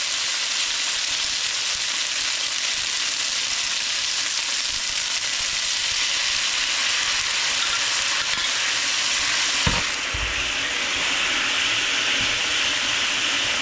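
Sauce hits a hot pan of pad thai noodles with shrimp, bok choy and shiitake mushrooms, giving a loud, steady, close sizzle and hiss that runs throughout, broken by one brief knock near the end.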